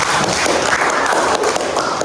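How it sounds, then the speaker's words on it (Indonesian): Students in a classroom clap for a group that has just finished presenting, a dense, even wash of applause with scattered sharper claps throughout. "Oke, tepuk tangan untuk kelompok."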